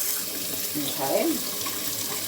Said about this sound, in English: I'm going to get the hot water going here for a minute or two, just for some warm water